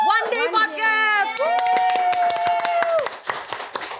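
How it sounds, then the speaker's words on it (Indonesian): Scattered hand claps closing out a One Day podcast episode, crisp taps repeating under a voice that holds long, drawn-out tones for about four seconds. "Jadi tepuk tangan lagi untuk One Day Podcast."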